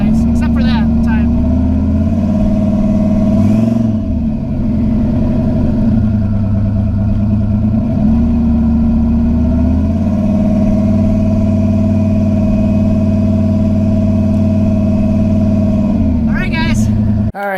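A car engine hums steadily on a first drive, with pitch rising and falling through gear changes, loud and constant, and a voice talks over it.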